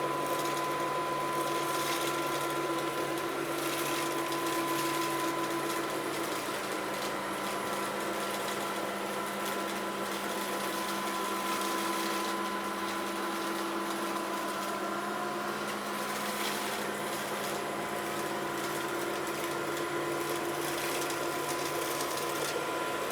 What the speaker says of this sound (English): We're going to test, can it pick up these lentils and whatever else is on our entryway rug here. So we're going to turn it on.